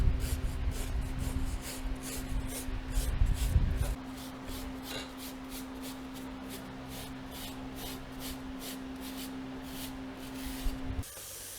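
Rinse sprayed onto the radiator fins of a BMW K1600 GTL motorcycle, a steady close hiss of spray with a low hum underneath and rhythmic pulsing, ending abruptly.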